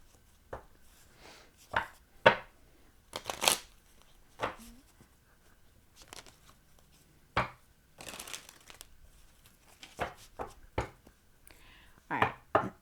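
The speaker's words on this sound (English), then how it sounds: "Let me just shuffle them one more time." Tarot cards are shuffled in scattered bursts of quick riffling and soft slaps, with quiet pauses between, close by.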